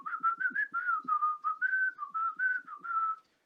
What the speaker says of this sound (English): I whistled the wrong song